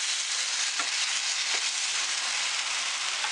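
Mutton kheema in a pan over medium heat gives off a steady dense sizzle of frying, with a couple of faint utensil taps and no talk.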